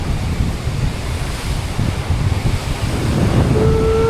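Ocean swells rolling in and breaking as surf on a remote shore, a steady broadband wash with wind buffeting the microphone, continuous and fairly loud with no speech.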